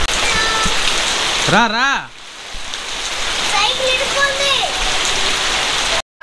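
Heavy rain pours steadily outside a flooded house, a dense continuous hiss close by, broken once by a voice calling out and later by faint voices under the downpour.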